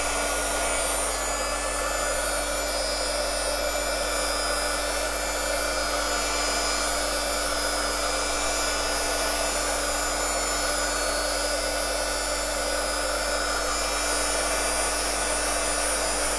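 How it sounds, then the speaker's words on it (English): A slightly faster heat gun blowing paint around on a butterfly matchbox craft: a continuous, steady airy roar with a low electrical hum underneath, unchanging throughout and with no voices. "this time I'm going to use a slightly faster heat gun"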